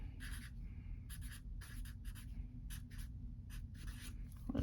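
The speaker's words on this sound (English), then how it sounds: "the Sharpie pen writes really nice over it" A Sharpie marker writes on smooth, toothless paper in short scratchy bursts, with close, dry strokes separated by brief pauses.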